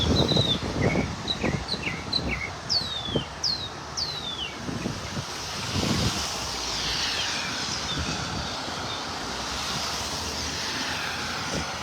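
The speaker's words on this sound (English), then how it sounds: "Listen to those birds." Several birds at a beach in North Naples, Florida, on a rainy morning give short, descending chirps and whistles in a quick series, over steady wind and a low rumble of distant traffic or surf.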